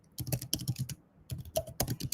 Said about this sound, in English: Now let's start typing here.